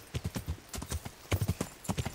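Hooves clip-clop in quick, irregular clusters as a horse is ridden in Kingdom Come Deliverance, the close, sharp strikes coming in bursts of three or four with short gaps between.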